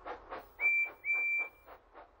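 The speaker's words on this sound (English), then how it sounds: "Percy blows his whistle to help Thomas find him." The cartoon steam engine Percy from Thomas & Friends sounds two clear, sustained whistle blasts over a soft rhythmic chuffing, fairly quiet and alone.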